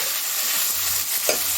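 String beans (sitaw) fry in a pan while being stirred. A loud, continuous sizzling hiss is heard up close, with a quick scrape of the spatula near the end.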